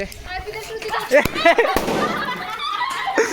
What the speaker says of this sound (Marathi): हे असे हातात फटाके फोडतात